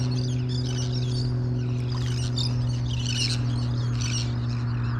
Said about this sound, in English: Wow, these birds haven't stopped.